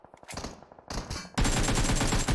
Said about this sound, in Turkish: Karşıdan sıkıyorlar Bekir karşıdan